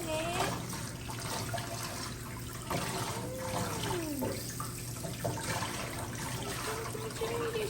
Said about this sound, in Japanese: 初めてシャワーですね。